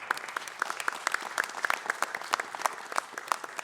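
Audience at a city council gathering applauding board members, a loose, scattered patter of clapping with a few sharp nearby claps standing out, moderately loud and brief, no speech.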